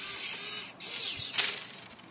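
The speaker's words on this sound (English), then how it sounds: "as you can hear, the motor here is actually working functioning perfectly" A small motor runs in a retractable mechanical glove with a high, whining mechanical buzz. It dips briefly, then whirs on with a short ratcheting rattle near the end, close and alone.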